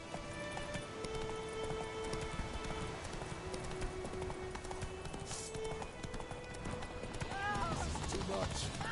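Roach the horse gallops in a video game, a steady clip-clop of hooves under game music, with a voice speaking over it near the end.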